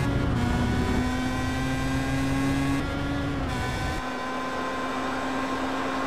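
Pro Mazda open-wheel race cars sweep through the final corner at Road America, a loud sustained engine drone with shifting pitch as cars pass and one fades away, heard alone without talk.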